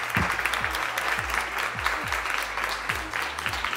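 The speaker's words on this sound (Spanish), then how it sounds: "Así que también un aplauso para ellas." Applause from an audience of women at a women leaders' gathering, a steady dense clatter of many hands lasting the whole stretch, with faint low thumps underneath.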